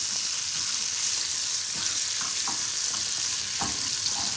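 A vinegar glaze for green bean bundles cooks down in a hot pan with a constant close sizzle and faint occasional stirring scrapes, with no voices.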